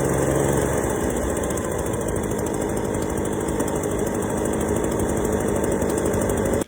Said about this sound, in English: we are going to expedite that by utilizing a leaf blower.